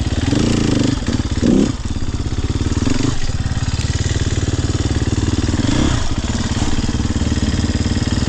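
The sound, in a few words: Sherco SEF 300 dirt bike engine during wheelie practice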